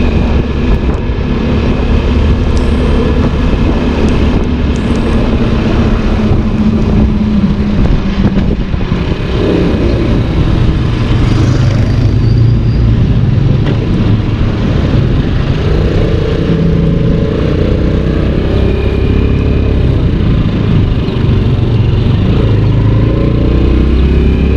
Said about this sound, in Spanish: sigue acelerada la moto, posiblemente tengamos que bajar la aceleración.